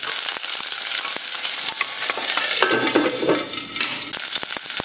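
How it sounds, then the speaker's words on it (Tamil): Sliced onions sizzle and get stirred in hot oil in a pan while cooking a chana pulao and potato kurma lunch, with steady frying hiss, scraping stirs and occasional clinks of a utensil against the pan, no talk. "வெங்காயம் நல்லா வதக்கிக்கோங்க"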